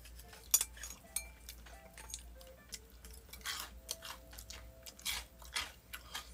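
Crunchy fried food chewed up close during a Korean after-work mukbang, with crisp bites and crackling crunches coming in irregular bursts, plus occasional faint clinks of cutlery in a quiet room.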